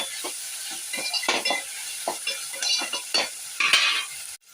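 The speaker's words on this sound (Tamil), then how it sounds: "கருவேப்பிலை சேர்த்து நல்லா வதக்கிக்கலாம்." Onions, tomatoes and curry leaves sautéing in a pan for mochai kulambu, a steady sizzle broken by repeated scraping strokes of a spoon stirring close by, with no talk.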